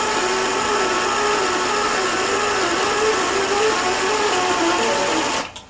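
A sewing machine stitches while vibrating and bouncing. Its steady, loud mechanical whir holds an even pitch with a wobbling buzz, then cuts off abruptly at the end.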